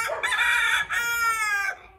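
An Aseel rooster crows loudly and close by, one long cock-a-doodle-doo in a few strained bursts, with no other sounds around it.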